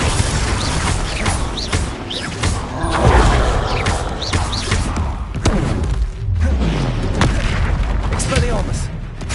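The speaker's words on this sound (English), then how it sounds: "Just my luck, a troll." A troll in a Harry Potter video game smashes the ground, producing heavy booming thuds and crashes amid a dense, loud game soundtrack and effects, with voices talking over it.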